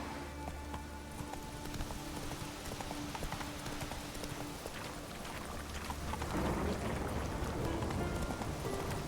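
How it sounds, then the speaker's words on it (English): Horse hooves clip-clop at a steady running gait in The Witcher 3, a continuous drumming beat over outdoor game ambience and a low music drone, growing slightly louder toward the end. "Run, Roach."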